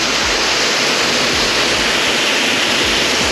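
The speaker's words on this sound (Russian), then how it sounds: "Посмотрим чуть фонтанчик, фу, водопадик." A small outdoor fountain or cascade of water makes a loud, steady, close rushing splash that fills the whole stretch without a break.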